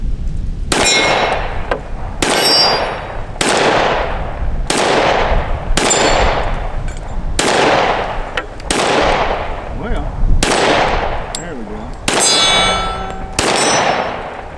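A Smith & Wesson M&P Compact pistol fires a steady string of about ten shots, each loud crack followed by a ringing clang of rounds striking steel targets outdoors.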